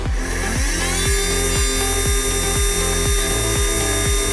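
A Trinity Speedworks 350 brushed RC motor, running on 5 to 7.6 volts on a bench, spins up with a high, steady electric whine and a rising pitch, loud and close, with a faint regular pulsing underneath.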